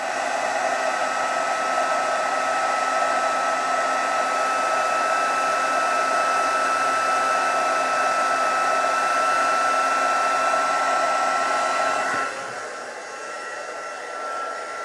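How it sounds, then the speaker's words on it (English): A heat embossing tool blows a loud, steady hot-air whoosh up close for several seconds, then switches off and leaves faint room noise. "always keep your heat tool at an angle"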